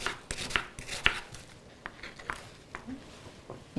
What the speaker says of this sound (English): So while the ground beef is browning, I'm going to cut an onion.